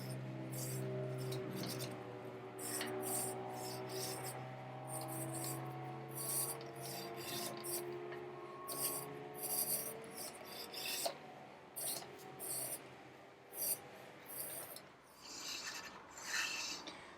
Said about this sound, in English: run this tap down there and just clean up those threads